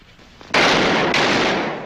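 A sharp close gunshot bursts out, then a second shot follows about half a second later, each ringing loudly with a long decaying tail during a police shootout.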